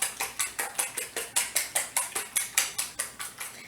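Eggs are beaten briskly in a bowl for a homemade fudge pie, a fast, regular series of clinking whisk or fork strokes against the bowl, about five per second, close and moderately quiet, with no talking.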